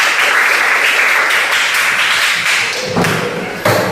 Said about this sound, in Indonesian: Ya, tepuk tangan untuk kalian